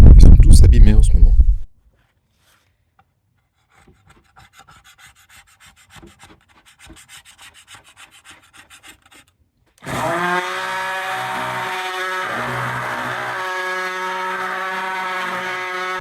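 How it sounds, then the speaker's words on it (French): Coarse 40 or 60 grit sanding of glued wood for a cabin-style bunk bed: a loud, brief rough burst, then a long near-silent pause with faint scattered noises, and finally a steady, droning power sander running close by. "premier ponçage au gros grain, hein. C'est du 40 ou du 60, ça."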